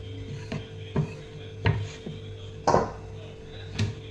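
A rolling pin works the edges of a large layered Kolhapur-style chapati dough, making about six soft, close thumps and rubs at an uneven pace over a steady low background hum.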